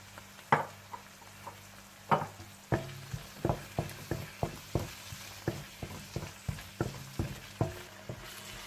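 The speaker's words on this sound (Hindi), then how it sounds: "जब अच्छा सा मसाला तैयार हो जाए तो आप इसमें दही डालकर मिला लें" Yogurt is stirred into a sizzling masala in a karahi, a metal spoon scraping and knocking the pan in a steady series of sharp close strokes over a soft background sizzle.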